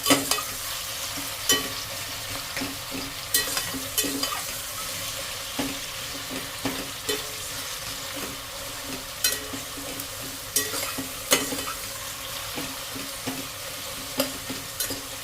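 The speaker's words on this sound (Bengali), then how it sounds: "পেঁয়াজটা পুরো ভাজা হয়ে গেছে তো এরকমই লাল লাল করে ভাজতে হবে" Sliced onions fry in hot oil in a pan for a mutton and potato curry, sending out a steady sizzle. Sharp scrapes and stirs come at irregular intervals, with faint water or tap noise in the background and no talk.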